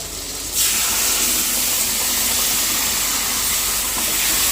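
Cold water poured into masala paste frying in oil, bursting into a loud, steady sizzling hiss that rises sharply after a brief quieter start and holds close and constant throughout.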